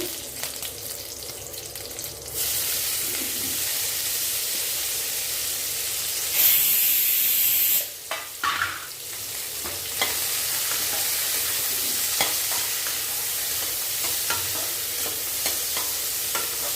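Sliced onions frying in oil with Indian gooseberry (nellikai) while being stirred, making a steady loud sizzle and hiss with scraping stirs and brief bursts of spitting.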